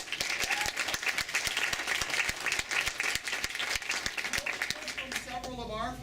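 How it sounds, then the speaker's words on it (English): An audience at a university physics conference's opening address bursts into sustained, dense applause of many hands clapping, which stays steady for several seconds before starting to thin out at the end. "I also like to give her a round of applause too"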